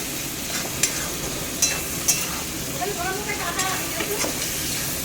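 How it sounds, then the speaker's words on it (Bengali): Cauliflower and potato fry in a pan with a steady close hiss of sizzling oil, broken by a few scraping clinks of stirring. "এখানে ভাজি হচ্ছে গিয়ে ফুলকপি আলু ভাজা"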